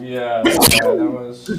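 One sharp sneeze bursts out in the middle of casual conversation on the set of a Disneyland commercial audition, with people talking before and after it.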